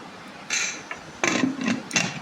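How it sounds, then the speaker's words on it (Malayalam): A pressure cooker holding chickpea curry has its lid closed, producing a few distinct close mechanical clicks and grinding scrapes in short bursts, with no talking. "ഇത് അടച്ചു വെച്ച് 10 വിസിലാകുന്ന വരെ നമുക്ക് വെക്കാം"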